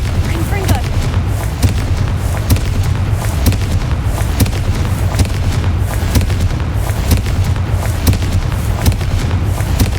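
In Hogwarts Legacy, a Confringo fire spell explodes among a loud, continuous barrage of booming blasts and crackling impacts that carry on without a break.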